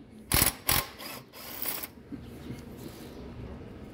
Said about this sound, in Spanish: ya con eso le doy con la matraca.